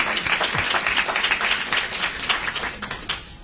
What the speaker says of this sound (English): We have a round of applause for Renee.